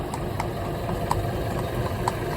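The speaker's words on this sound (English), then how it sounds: "the engine's running, no problem at all. Big pump going on here" An engine runs steadily to drive a big pump outdoors, a continuous mid-level drone with a few faint clip-clops of a cob horse's hooves walking nearby.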